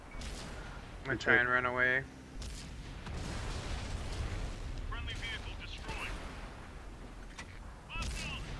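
Heavy tank cannon shots firing HEAT rounds in World of Tanks, played with an IS-3, sound as booming blasts, including a loud burst near the start, while someone talks over the game.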